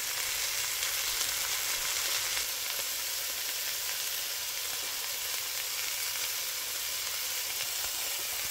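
Ground beef sizzles and fries steadily in olive oil in a pan for a meat sauce, a dense, continuous crackle up close with no talking.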